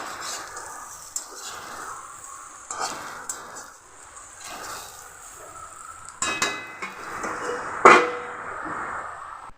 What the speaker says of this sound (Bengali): নেড়ে চেড়ে দিচ্ছি ভালোভাবে।